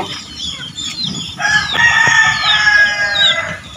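A domestic hen with her brood of chicks clucks loudly and close by, with thin high peeping from the chicks overlapping throughout.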